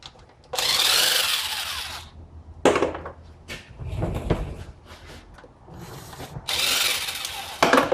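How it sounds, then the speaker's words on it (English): Close, loud ratchet bursts removing transmission pan bolts on a 2005 Dodge Ram 2500, several rapid clicking runs broken by clanks and quieter handling noises in between. "Start removing some bolts."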